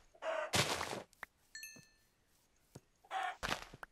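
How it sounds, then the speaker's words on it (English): Chickens in Minecraft give a few short clucks with soft thuds between them, fairly close and otherwise quiet with no talking. "Some nice piggies. And, oh, more chickens."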